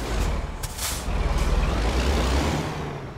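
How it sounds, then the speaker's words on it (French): A big truck engine in American Truck Simulator rumbles low and heavy, with hissing air-brake bursts near the start and a throbbing beat in the middle. "Je vous laisse écouter quand même le bruit énorme de ce camion"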